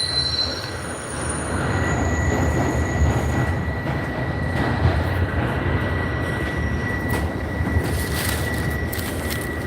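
A train runs with its wheels squealing on the rails, a steady loud rumble topped by a sustained high metallic screech from start to finish.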